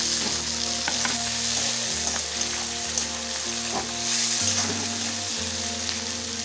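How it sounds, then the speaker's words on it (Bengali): Tomatoes frying with already-browned garlic in a pan for a pattagobi cabbage roll recipe, a steady close sizzle with occasional sharp crackles and spatters, no talking. "টমেটোটা একটু ভাজা হোক"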